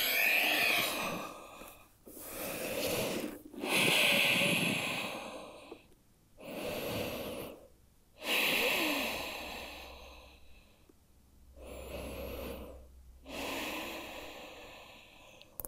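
Slow, deep breathing during a wide-leg yoga stretch, with long audible inhales and sighing exhales repeating in an unhurried rhythm, close and fairly loud, with no talking.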